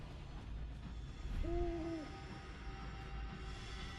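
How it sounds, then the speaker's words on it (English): An owl hoots in the video game Sunless Skies, a single clear two-part call rising and falling near the middle, standing out against a steady low engine-like drone that runs throughout. "I'm sending out the owl too much."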